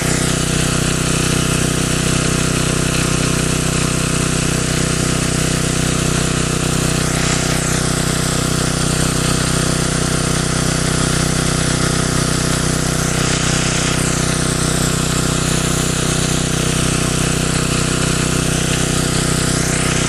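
A generator runs under added electrical load in an HHO run-time test, a loud, constant, close mechanical drone with a steady hum and faint periodic sweeping tones, unchanging across the whole stretch.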